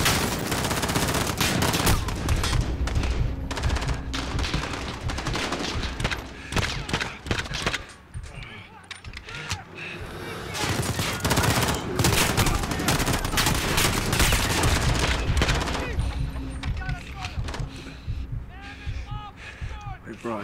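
Dense, near-continuous gunfire and explosions in the shooter game Modern Warfare, loud and chaotic for most of the stretch with a brief lull midway, players talking over the combat.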